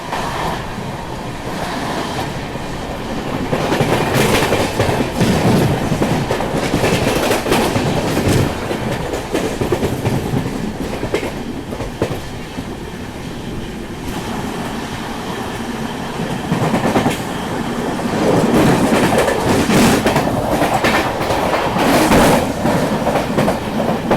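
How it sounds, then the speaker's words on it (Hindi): The Mumbai-Hapa Duronto Express runs fast through Valsad station, a loud, continuous rumble of wheels and cars with rhythmic clickety-clack and swelling surges, no voices. "वलसाड रेलवे स्टेशन को अच्छी खासी रफ्तार में ट्रेन स्किप करने वाली है"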